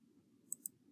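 Two quick, faint computer mouse clicks sound close together against a quiet room hum.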